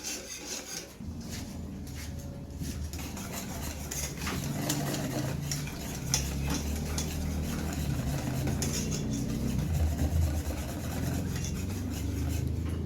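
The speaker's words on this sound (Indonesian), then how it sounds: "Kita aduk terus supaya santannya tidak pecah." Pumpkin and coconut milk pudding being stirred steadily in a pot as it comes to a boil, a continuous scraping and rubbing of a utensil against the pan, close and fairly loud, with no talking.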